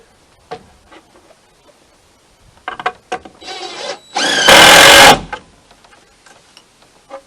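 A power drill drives screws into wood while a DIY goat feeder trough is built, with scattered knocks and handling first, then a brief rising whine and a loud, grinding burst of driving lasting under a second.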